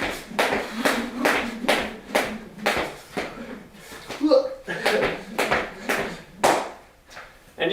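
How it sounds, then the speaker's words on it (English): A run of sharp hand claps close to the microphone after a weighted jump rope workout interval, about a dozen loud claps in an uneven rhythm with brief pauses and some talking mixed in. "Sorry for clapping in your ear like that, especially if you're wearing headphones."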